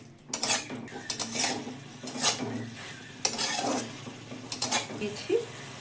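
A spoon scrapes and knocks around a pan as turmeric is stirred into tender seedless bottle gourd cooking in a little water for chutney, producing irregular clinks and scrapes over a soft background sizzle.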